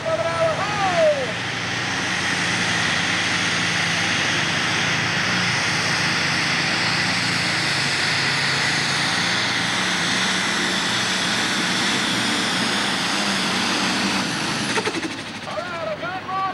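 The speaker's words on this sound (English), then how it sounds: "Six-cylinder diesel powered Ford tractor." A loud six-cylinder diesel Ford tractor engine roars steadily at close range during a Super Stock tractor pull run, with a faint voice at the start and end.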